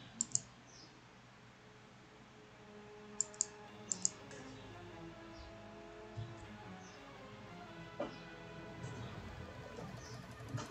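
Mouse clicks during mining software setup, a few sharp close clicks, some in quick pairs, spread over a faint steady background hum with no talking.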